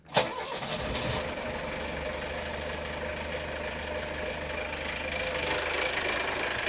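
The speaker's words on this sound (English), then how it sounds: "We're running. The engine is running." A boat's diesel engine, preheated with glow plugs, catches with a sharp start and then settles into a steady, even running rumble that continues alone for several seconds.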